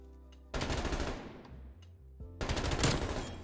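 Submachine gun fire in Call of Duty: Black Ops Cold War Search and Destroy plays as two loud, sustained automatic bursts, separated by a brief lull with a fading tail and distant shots. There is no talking.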